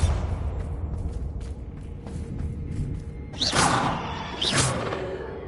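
Spell impacts from Bombarda in the video game Hogwarts Legacy: soft thuds and light taps at first, then two sharp whooshing blasts about a second apart, moderately loud with no speech.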